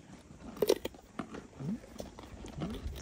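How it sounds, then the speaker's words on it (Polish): A horse bites into carrots and chews, giving close, quiet crunches and irregular chomping over a few seconds. "jak ty marchewkę umiesz gryźć"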